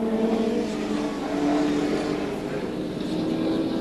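Touring cars race at Winton circuit in a 1988 ATCC round, a steady, continuous engine drone with shifting revs that holds throughout at moderate distance.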